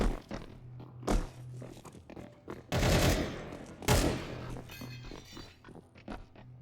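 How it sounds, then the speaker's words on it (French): Weapon fire in a video game as the trigger is held down and spammed: several loud ripping bursts of rapid shots come in clusters with short gaps between them, and lighter clicks and rattles fall in between. "Tu restes appuyé sur clic gauche, tu spam."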